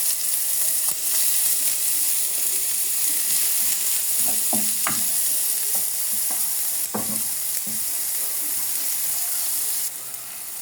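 Steady loud sizzling of onions frying in oil in a pan, with a few soft stirring clicks and scrapes over the continuous hiss.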